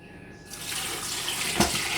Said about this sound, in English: so I'm going to add my first bowl of water